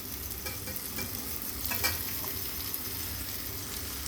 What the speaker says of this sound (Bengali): একটু নাড়াচাড়া করে মাছটা দিয়ে। মশলাটার সঙ্গে ভালোভাবে মিশিয়ে নিতে হবে।